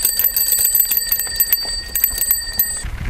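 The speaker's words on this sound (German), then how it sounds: "Warte mal, klingeln." A bicycle bell rings with rapid repeated metallic dings for nearly three seconds, bright and close, fading out at the end.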